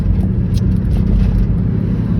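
Continuous low rumble of road traffic with cars passing steadily nearby, a dense broadband engine and tire drone filling the whole stretch without any pauses.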